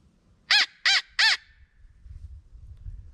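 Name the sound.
crow call imitating crow cawing, faster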